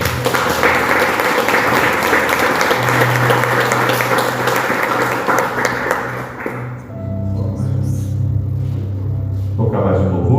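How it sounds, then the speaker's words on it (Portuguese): A church congregation claps together for several seconds, a dense, loud wash of applause that tapers off while a low held organ-like tone and a steady beat carry on behind it. "Uma salva de palmas ao Senhor Jesus."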